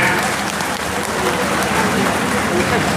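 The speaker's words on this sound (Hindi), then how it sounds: "बाकी लोग ताली बजा के इनका स्वागत करें" A large crowd claps steadily to welcome a party candidate at a political rally in Barabanki, dense applause running throughout with voices mixed in.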